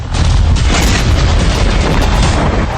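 A heavy bomb blast from a US fighter jet air strike on a building, a loud continuous rumbling roar of explosion and debris filling the whole stretch with dense low-end power, no voices.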